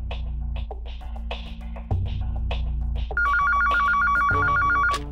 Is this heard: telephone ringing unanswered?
yes